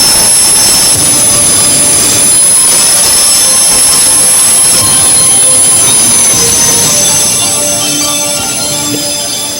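A 6,000-horsepower jet dragster lights its afterburner on the starting line, a loud, steady jet roar with a high whine sustained across the whole stretch, easing slightly near the end.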